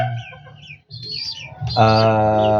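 Young birds let loose inside a large cage give clucking, fowl-like calls, with short chirps early on and then a louder, sustained harmonic call near the end, close by and without talk.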